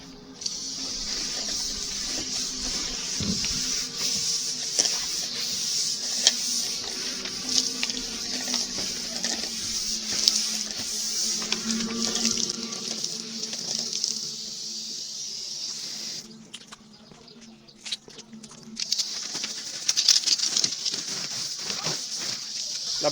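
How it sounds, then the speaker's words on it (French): A soft telescopic brush scrubs an aluminium roller shutter with a continuous, faint swishing rasp. The strokes are steady and close, then break off briefly and resume, with no talking. "On va passer au nettoyage avec la brosse."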